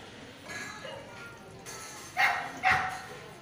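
Dogs in Vizag, India, giving a couple of short sharp barks in the middle distance against quiet outdoor background, with faint voices nearby.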